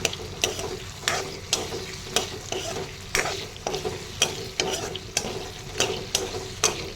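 Potato pieces sizzle steadily in a pan while a utensil stirs them, giving a rhythmic series of scraping strokes roughly twice a second over the continuous frying hiss, with no talking.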